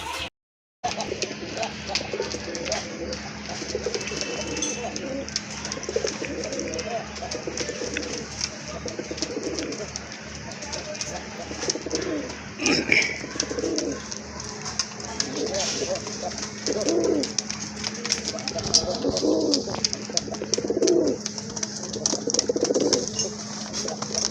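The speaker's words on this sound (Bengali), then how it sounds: "একজোড়া কবুতর দেখতে পাচ্ছেন আকাশি কালারের ভিতরে" Pigeons for sale coo in soft repeated bursts under steady ambient hum, while a person talks throughout.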